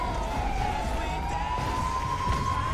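Ambulance siren in the LSPDFR police video game, a loud steady wailing tone rising slowly in pitch over constant background noise.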